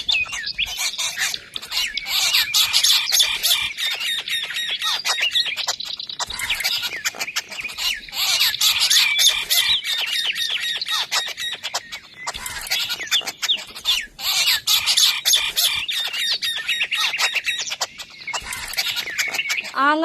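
Small birds chirp and tweet busily in a courtyard garden, a dense, continuous twittering chorus with occasional squawks throughout, near and fairly loud.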